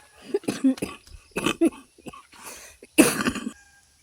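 A person coughs several times in short, harsh bursts with pauses between, close to the microphone, the last cough loudest.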